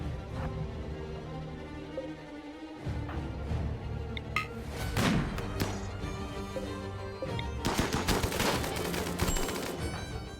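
Scattered gunshots and volleys in a RimWorld firefight, irregular cracks of varying loudness over a low ambient hum, with bursts clustering around the middle and end.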